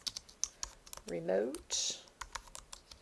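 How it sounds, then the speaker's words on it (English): Keys are tapped on a computer keyboard while typing an annotation note, sounding as close, irregular clicks spread through the clip, with a person speaking briefly in the middle. "I'm going to actually type my note here."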